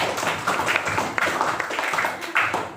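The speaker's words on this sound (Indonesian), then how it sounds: "Beri tepuk tangan untuk kelompok 1." A classroom full of students applauding a group after its presentation: brisk, dense clapping from many hands at close range, lasting a few seconds with slight swells.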